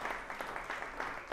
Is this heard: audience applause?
yes